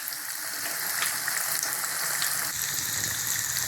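Sweet potato bondas sizzle and crackle steadily in hot oil, a dense, continuous frying hiss with no talking.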